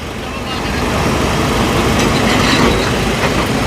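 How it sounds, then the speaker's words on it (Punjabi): A large hydra crane train works on a railway track near Sirhind after a collision between two trains, giving a steady, loud rumble of rail machinery that holds throughout, with voices mixed in. "ਕਾਫੀ ਵੱਡੀ ਹਾਈਡਰਾ ਟ੍ਰੇਨ ਹੈ ਜਿਹੜੀ ਕਿ ਰੇਲਵੇ ਟਰੈਕ ਤੇ ਕੰਮ ਕਰਦੀ ਹੈ"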